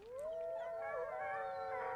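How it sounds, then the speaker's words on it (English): A pack of wolves forming a circle in open country beneath a moonlit sky lets out a sustained, wavering chorus of overlapping howls, clear and unbroken. "they began to howl"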